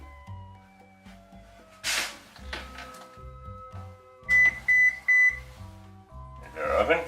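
Kitchen oven timer beeps three times in an even rhythm, loud and close, with a steady background hum and a voice talking around it.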